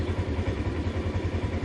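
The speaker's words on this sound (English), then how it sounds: "I'm sitting inside the machine with the engine running" Polaris General XP engine idling, heard from inside the cab: a steady low, throbbing rumble with an even pulsing rhythm, close and alone.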